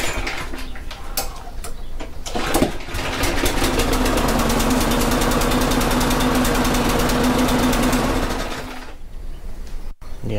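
A lawn mower engine with a stuck choke runs steadily for several seconds with a fast, rough rattling drone, then cuts out and falls silent near the end.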